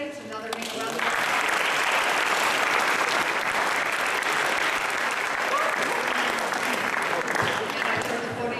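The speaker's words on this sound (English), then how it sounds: "I think we should give all of our candidates another big round of applause." Sustained audience applause for Grade 10 class president candidates at a school speech and awards event, starting after a brief moment and holding loud and dense for about seven seconds, with faint voices underneath.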